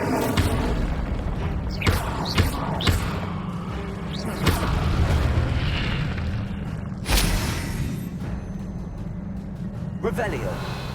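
Incendio fire spell blasts in Hogwarts Legacy, several heavy booming bursts and thuds spread across the stretch, with a loud burst near the middle, over steady game ambience and occasional voices.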